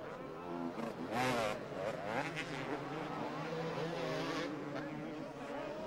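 On-board roar of a Honda 250 motocross motorcycle racing at a 2002 250cc Grand Prix in Bellpuig, the engine revving and shifting continuously, loud and close, with a commentator talking over it.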